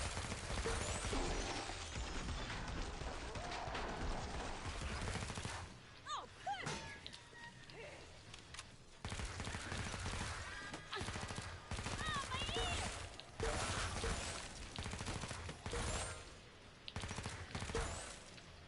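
Rapid automatic MP5RAS fire in Killing Floor 2, dense loud bursts of gunshots with brief pauses and impact clatter, continuing across the stretch.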